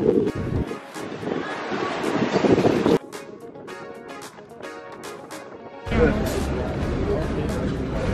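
Strong wind buffeting the microphone outdoors on a hillside in Skiathos, Greece, loud gusty roaring in bursts that drop away briefly then return, with people talking over it.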